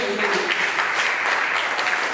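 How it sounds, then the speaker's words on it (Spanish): A standing church congregation applauds God during a Spanish-language sermon, with dense, steady clapping throughout, and a voice briefly audible under it at the start. "denle un aplauso grande a Dios"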